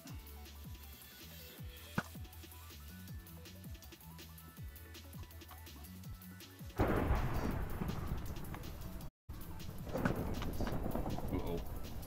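Rainfall and thunder in Minecraft: a steady patter of rain, then a loud, rumbling thunderclap partway through that swells into a long roll and lingers, with game footsteps and effects faintly beneath.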